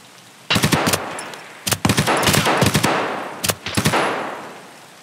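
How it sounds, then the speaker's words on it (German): Bursts of automatic gunfire in Escape From Tarkov come in three loud, rapid volleys separated by short pauses, the last fading into a lingering echo. "Ey, schießt auf mich, Alter."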